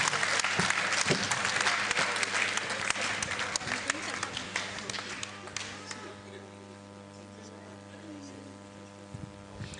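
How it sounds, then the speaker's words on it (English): An audience at a lecture celebration claps loudly, dense applause that thins and fades away over several seconds, leaving a steady mains hum in the room. "A round of applause one more time"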